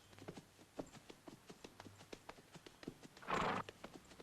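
Horse hooves clip-clop in a steady walking rhythm at close range in a western film, with a brief snort or breathy whinny near the end and no talking.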